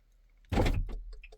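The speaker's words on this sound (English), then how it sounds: "Lock the car." A Volkswagen car locking, with a sharp mechanical clunk of the door locks followed by a short whirring motor sound and a few faint clicks, heard close by with no talking.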